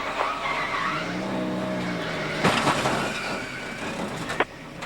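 Race car crash during a 2012 Daytona Nationwide race, with a steady roar of engines and tire noise, then a sharp loud impact burst midway and a second brief bang near the end.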